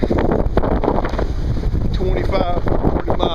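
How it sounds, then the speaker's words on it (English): Strong tropical storm wind gusts batter the microphone outdoors, a loud continuous roaring buffet with rumbling low-end pulses across the whole stretch and faint sounds beneath; no clear speech. "We got some gusts that are hitting 45, 50."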